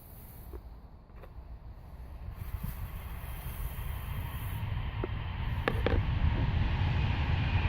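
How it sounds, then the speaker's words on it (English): Steady outdoor wind rushing and buffeting across the microphone, building slightly louder over several seconds, with a few faint light taps underneath and no voices. "There's a nice breeze today"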